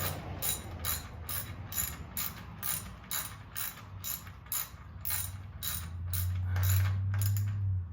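Shifter bracket bolts are tightened on a 1971 Monte Carlo SS with a T400 transmission. A ratchet clicks in steady repeated strokes over a low hum, and a louder low drone rises near the end. No one talks.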